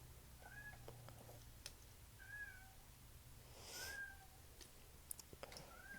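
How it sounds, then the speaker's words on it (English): A cat meows about four times, short, faint and evenly spaced, over a quiet room hum with a few soft clicks. "I told Milo he better stop meowing."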